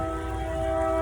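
A passing train sounds a steady horn. The tone is loud and held, with several layered notes over a low rumble, and no one talks.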